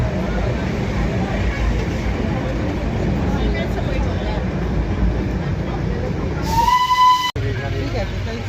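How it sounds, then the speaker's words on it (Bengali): The Darjeeling toy train rumbles along with a steady low clatter of wheels and carriages, and a short horn blast sounds near the end while people talk throughout. "আমাদের টয় ট্রেনের যাত্রা শেষ।"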